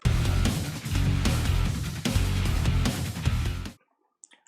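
Dense drum and bass djent riff with heavy distorted guitars and an Ibanez bass, loud and continuous with pounding drums, then cutting abruptly to near silence with a few faint clicks.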